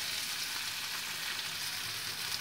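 Ivy gourd (kovakkai) pieces fry in a pan with a steady, even sizzle that holds at the same level throughout, close to the listener and with no talking.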